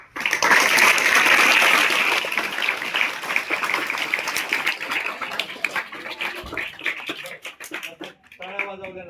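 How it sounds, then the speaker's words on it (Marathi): An audience at a devotional Haripath talk breaks into dense applause that is loud at first, then thins out over several seconds as a speaker resumes talking. "तुम्ही आता ज्या टाळ्या वाजवल्या ना"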